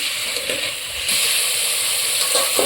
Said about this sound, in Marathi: चिकनचा कलर भरतेपर्यंत असं परतून घेतलं छान एकदम